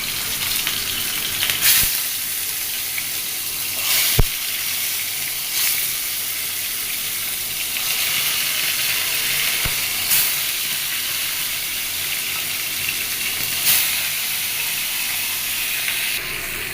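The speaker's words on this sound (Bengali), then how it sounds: "দেখো মাংসটা দিয়ে দিয়েছি ফ্রাই প্যানে। সবগুলো এখন একটু মোটামুটি হালকা করে ভেজে নিব।" Meat sizzles steadily in a frying pan, a loud continuous hiss with a few faint stirring clicks and scrapes, no voices.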